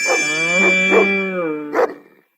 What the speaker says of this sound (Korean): 강아지는 멍멍.